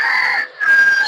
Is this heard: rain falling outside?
no